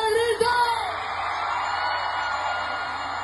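A large crowd at a live concert in the Dominican Republic shouts and cheers in a steady, dense roar, with a brief louder whoop near the start.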